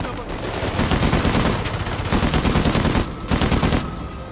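Rapid automatic gunfire in the Uncharted video game rattles loud and dense in two sustained bursts with a short pause between, no speech over it.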